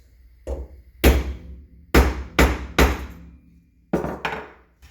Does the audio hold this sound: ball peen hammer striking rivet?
yes